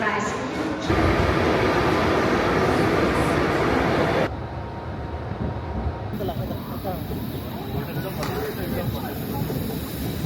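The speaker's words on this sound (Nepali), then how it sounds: "अहिले हामी जुरिचको ट्रेन ट्रेन स्टेसनमा। अब यहाँबाट इन्टरलाकेन जाँदैछौँ" Train at Zurich station before a trip to Interlaken, a loud continuous rumble and rushing roar that drops in level partway through and settles into a steady, lower mechanical hum.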